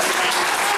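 An audience applauds at a comedy stage show, a brief dense wash of clapping that holds steady and fills the whole moment.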